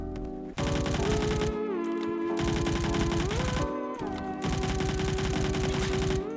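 A SCAR rifle firing in the Roblox shooter Phantom Forces, loud sustained automatic fire in long bursts broken by brief pauses, with a steady tonal game sound running underneath.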